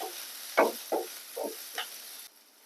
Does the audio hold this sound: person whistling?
no